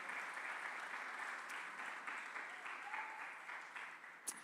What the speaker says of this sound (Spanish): Den un aplauso fuerte al Señor, por favor, con todo su corazón